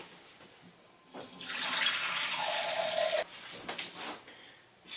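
Tap water runs into a container while the cook measures it for a pressure cooker lentil soup, a loud steady rushing stream that starts abruptly, holds for about two seconds and then cuts off, followed by a few quieter kitchen clatters.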